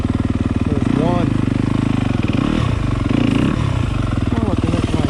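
A Yamaha YZ250 two-stroke dirt bike rides a hard enduro trail in the snow, its engine loud and close as it buzzes and revs continuously with rising and falling pitch, riders' voices faintly mixed in.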